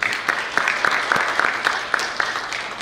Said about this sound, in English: Mr. Mike Cole, give him a round of applause.